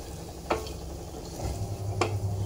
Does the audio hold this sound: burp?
no